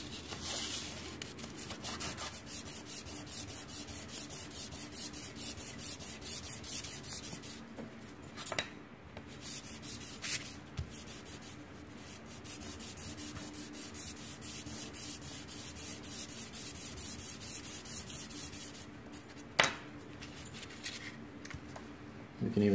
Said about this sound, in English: Take some 800 grit sandpaper. We're just gonna smooth it out and make it look a little better.